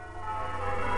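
Church bells ring out from St. Peter and All Hallows Church in West Huntspill, heard from a nearby field as a steady, resonant drone with sustained overlapping tones.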